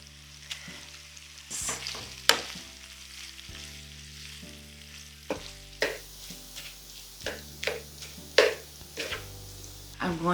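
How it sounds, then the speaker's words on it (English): Butter sizzling in a pan with sausage, a soft steady crackle under background music, punctuated by scattered clinks and scrapes of a utensil. "Now we're going to add 3 tablespoons of butter"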